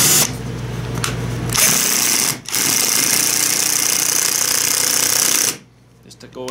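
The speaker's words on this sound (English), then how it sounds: "I gotta drill that thing in there" A cordless drill driving into wood, close and loud: a sustained buzzing whir with a brief stop before it spins up again, then it cuts off and a few quieter handling sounds follow.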